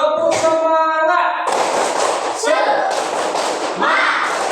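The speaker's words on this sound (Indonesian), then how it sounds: "Tepuk semangat" Classroom of students doing a rhythmic spirit clap, quick bursts of group clapping in a patterned beat, with voices chanting over the start.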